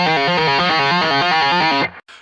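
Electric guitar played with high-gain distortion, a rapid run of fretting-hand pull-offs, loud and sustained for about two seconds before cutting off abruptly.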